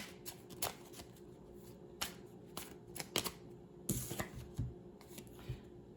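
Tarot cards are shuffled and drawn by hand, with soft riffles, flicks and snaps scattered irregularly, close and fairly quiet, a denser burst of shuffling midway, with no talking.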